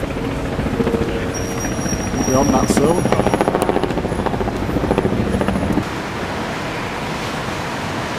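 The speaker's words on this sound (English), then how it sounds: "There's our helicopter." A helicopter flies near the Empire State Building in New York, its steady rhythmic rotor chop loud and close under wind-like roar, while people talk over it before the chopping fades back into broad noise.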